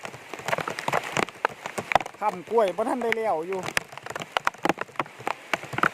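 Heavy rain driven by strong wind falls on a banana plantation as a steady patter with scattered sharp drop hits, while someone speaks close by over it.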